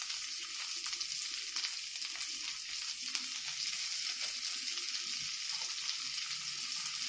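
Chopped onion fries in hot oil with cloves, cinnamon, green cardamom and dried red chillies, giving a continuous, even sizzle with faint stirring and no speech.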